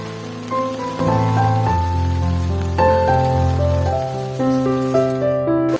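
Heavy rain falls on a rooftop, a steady loud wash of drops on the surface that continues without a break under a sustained tonal hum.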